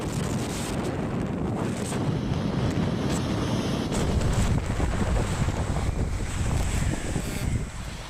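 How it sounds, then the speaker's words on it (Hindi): Cyclone Yaas makes landfall on the Odisha coast with 130 to 140 km/h winds: a loud, unbroken roar of wind buffets the microphone while surf churns underneath, with no voices. "130 से 140 किलोमीटर प्रति घंटे की रफ्तार से तूफान टकरा चुका है।"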